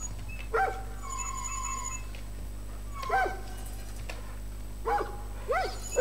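A dog in the shooter game Far Cry New Dawn gives a few short barks and yelping whimpers in separate bursts, set against a low steady game hum.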